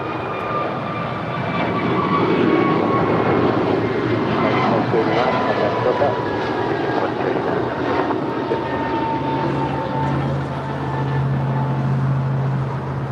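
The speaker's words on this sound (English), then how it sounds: "2289 departing to Miami. It's a 3-year-old Airbus A321neo." An Airbus A321neo, a three-year-old American jet, departs LAX for Miami with a steady broad engine roar rising into takeoff thrust, heard from a distance across the airfield with a low hum underneath.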